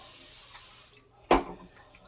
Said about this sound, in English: Now for the ends, I'll spray my hand